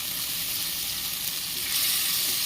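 Ghee melting in a pan for a drumstick-leaf dal fry gives a continuous close, loud sizzle that holds steady and grows slightly louder near the end, with no voices.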